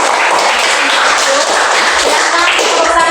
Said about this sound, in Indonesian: Oke, beri tepuk tangan untuk